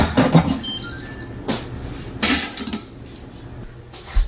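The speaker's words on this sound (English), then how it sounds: "I'm going to remove this lid and set it aside" An Instant Pot lid is lifted off and set down, giving clinking metallic clatters and a couple of sharp knocks, close and loud with quiet gaps between.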